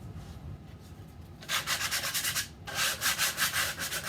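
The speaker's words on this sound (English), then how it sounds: "I'm just sanding the edges to get a little rough bits off" Steady rhythmic rubbing of sandpaper on the wooden edges of a bench seat box, quiet at first then louder strokes in a quick back-and-forth pattern, close up with no talking.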